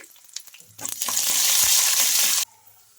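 Cumin seeds, curry leaves and chillies dropped into hot oil for a tempering, a few small crackles then a sudden loud burst of sizzling that holds for over a second before cutting off.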